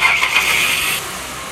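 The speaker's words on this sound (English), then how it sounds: "now we're going to start the vehicle" A Ford Explorer engine cranks and catches, starting up loud and close within a second and a half before settling back toward a steadier idle.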